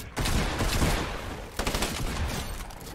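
Gunfire bursts from a Fortnite match, a dense volley of loud shots filling the first second and a half, then a second rapid burst after a brief dip, close and sustained with no talking.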